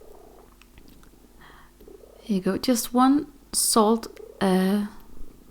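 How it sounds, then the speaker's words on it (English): A low, soft purring rumble runs quietly underneath while a person talks in short bursts close by. "So I do apologize if you can hear a purring noise."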